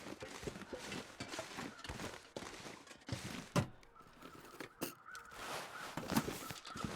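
Crows cawing in the snowy survival game The Long Dark, several harsh caws scattered over a rustling, shuffling game soundscape with footstep-like thuds and little speech.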